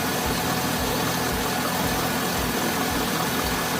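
A 2006 Chevy Silverado 5.3 V8 idles steadily up close, a continuous low rumble with broadband hiss and faint vibration, no speech over it.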